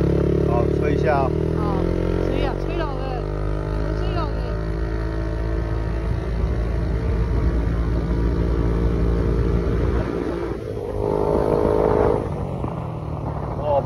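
A motorcycle carrying a passenger through a Kinmen village at night, the engine revving up through several rising pitches and pulling strongly, loud and close, with people talking over it.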